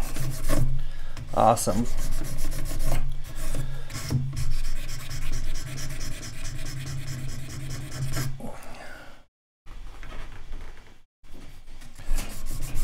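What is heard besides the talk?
sanding and filing wood by hand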